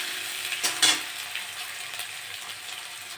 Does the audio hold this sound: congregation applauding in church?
no